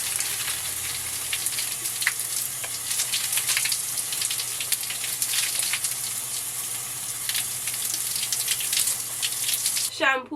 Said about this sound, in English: Let me rinse this second time.